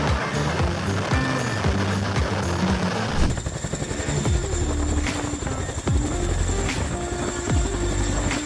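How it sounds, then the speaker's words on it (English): Firefighting helicopter battling forest fires, its rotor and turbine making a loud steady thudding roar throughout, with a shift in tone partway through as it passes close by. "Firefighting helicopters are a game changer for battling forest fires."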